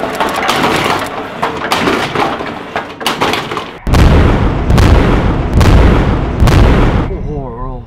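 Several heavy, booming naval cannon blasts fire one after another, loud and close, with rumbling echoes and French-speaking voices talking between shots.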